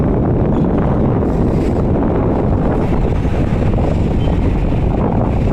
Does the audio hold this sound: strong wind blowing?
yes